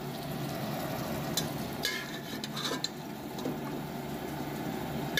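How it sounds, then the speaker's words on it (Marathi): Mutton pieces fry in a pan with a steady, close sizzle and scattered sharp pops and crackles, with no talking. "आपण फ्राय बनवतोय मटणचे"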